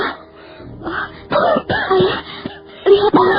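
A man coughs in harsh, strained bursts mixed with moaning and groaning, coughing up blood in a period drama set in ancient Java; several loud fits come close together with short pauses between them.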